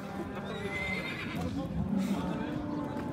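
A horse neighs at a livestock market in Talas, the whinny rising out of a busy bed of market noise and hoof clatter, with voices around it.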